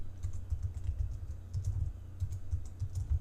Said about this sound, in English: I can still type in column J